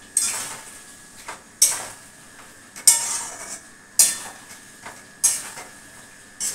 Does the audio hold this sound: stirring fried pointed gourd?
yes